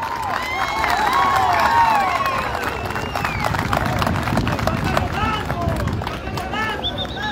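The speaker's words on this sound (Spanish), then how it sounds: "el pelotero más valioso de esta final, yo creo que merece un aplauso y reconocimiento. Mauricio Fargas." Crowd at a municipal baseball championship final, a steady hubbub of cheering and clapping, whistles and shouts held at a constant level for several seconds.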